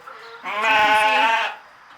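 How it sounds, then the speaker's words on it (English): A single long, wavering ewe bleat, close and fairly loud, lasting about a second amid quiet background on a homestead. "And then we've got our 4 ewes, our 4 girl sheep."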